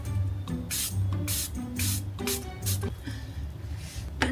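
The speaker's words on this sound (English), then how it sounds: "Let us lock it in with some setting spray." Setting spray mists onto a finished face of makeup in several short, close hissing bursts, each spritz about a quarter second long with brief pauses between them.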